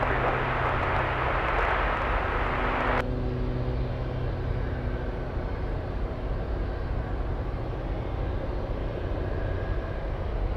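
A heavy jet takes off from runway 33 at Anchorage airport with a powerful, continuous roar heard at a distance. A broad hiss cuts off abruptly partway through, and a steady low rumble carries on afterward.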